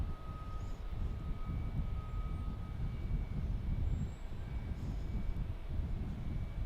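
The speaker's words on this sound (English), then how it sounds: "The Vision Jet is a good one." Cirrus Vision Jet at Dallas Love Field, a steady broadband jet roar with rumbling engine noise that holds at a constant level throughout, no voices.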